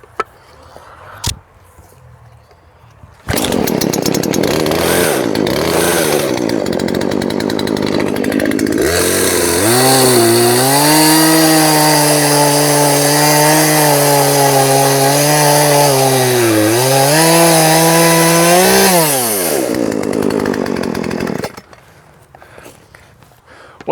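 A chainsaw cuts off a piece of tree trunk, roaring loudly and steadily for about fifteen seconds after a few brief starts, its pitch dipping and rising under load before it stops.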